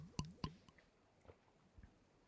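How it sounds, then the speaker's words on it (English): Someone takes small sips of 20-year-old vacuum-sealed Trump-branded bottled water, giving two close, wet slurping clicks followed by a few fainter mouth and swallowing sounds, very quiet overall. "I'm taking a sip."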